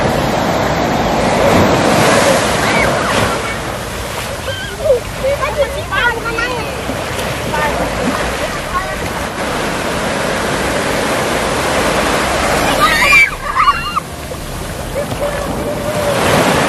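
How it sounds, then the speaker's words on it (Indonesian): Morning surf rolls onto the beach at Anyer, a steady, close wash of breaking waves filling the whole stretch while people talk over it now and then. "Suasana pagi di pantai."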